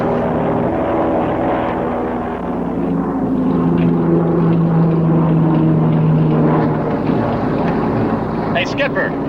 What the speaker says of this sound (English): That plane up there, he's radioing a warning.